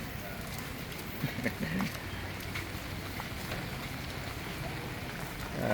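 Monsoon rain falls steadily over an outdoor market in Non Sung, Korat, Thailand, a dense continuous hiss of drops on surfaces, close and loud throughout, with a brief voice and faint market bustle underneath.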